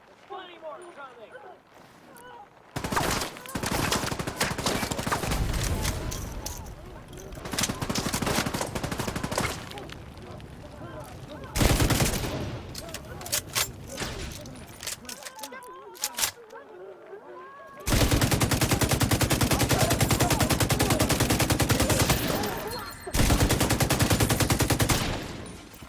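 Automatic gunfire from a video game shooter build, loud and dense in long sustained bursts broken by brief pauses, with scattered single shots and in-game effects layered throughout.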